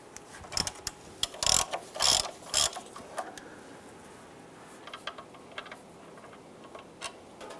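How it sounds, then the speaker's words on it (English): A ratchet wrench loosens the 5/8 oil drain bolt on a 1995–2001 Ford Explorer, giving several quick bursts of close, crisp clicking followed by fainter, sparser ticks. "Let's go ahead and loosen this bolt."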